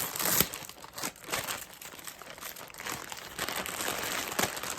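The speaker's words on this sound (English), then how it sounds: "Sorry, noisy package peeling." Crinkly plastic packaging for a double pack of muklucks slippers is peeled open, making continuous close crackling and tearing for about five seconds, with loud bursts of crinkle throughout and no voices.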